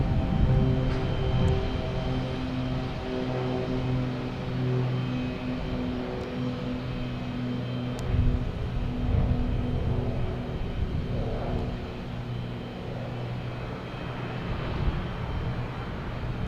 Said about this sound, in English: Now we have Delta coming in from Detroit. An A321,